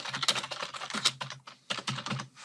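Typing a prompt on a computer keyboard, a quick irregular patter of close, crisp key clicks in short bursts with a brief pause midway.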